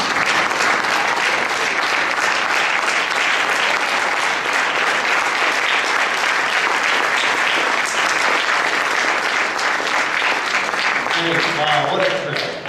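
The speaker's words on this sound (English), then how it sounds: "stand up and let's give all those people a big round of applause." An audience at a memorial service gives a sustained round of applause. The clapping is dense and continuous from start to finish, and a few voices rise faintly near the end.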